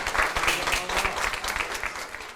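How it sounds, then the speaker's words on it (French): A small group applauds together after finishing sorting a bag of belongings, steady close hand clapping lasting a couple of seconds with no talking over it. "On peut s'applaudir."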